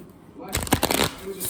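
Oracle cards shuffled by hand, a short burst of crisp riffling flutters lasting about a second after a quiet start.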